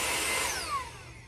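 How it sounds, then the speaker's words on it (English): A small xCool handheld vacuum whirs with a high, airy motor whine that slowly falls in pitch, brief and fairly quiet with no talking. "It's this little handheld vacuum."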